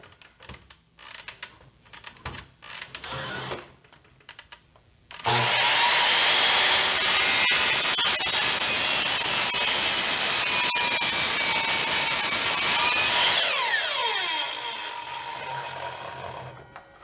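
A miter saw set to an angle bites into clamped wood after some handling clatter, giving a loud, sustained whining cut for about eight seconds before the blade spins down.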